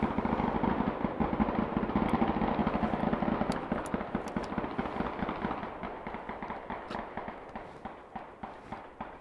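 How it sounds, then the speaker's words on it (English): Volley gunfire on a shooting range, a long run of rapid overlapping shots from a group of shooters, heard from a distance as a dense rattling stream that gradually fades. "just a bunch of guys shooting volley fire for fun."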